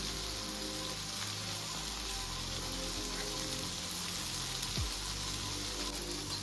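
Mackerel (bangda) masala sautéing in a pan gives a steady, dense sizzle and crackle that stays close and even throughout, with no talk over it.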